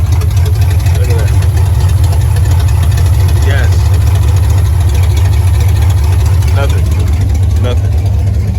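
A car engine low on fuel pressure idles roughly and loudly up close, a dense continuous rumble with a faint uneven lope, while people talk faintly underneath.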